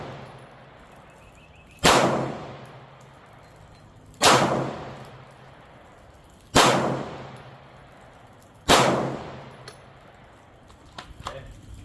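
Four single pistol shots from a SIG P320/P365X during defensive pistol training, loud sharp reports spaced about two seconds apart, each followed by a short decaying echo, with no talk.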